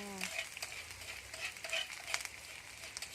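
Spices and field rat stir-fried in a pan over medium heat, a steady close sizzle with rhythmic scraping and clinks of the stirring utensil.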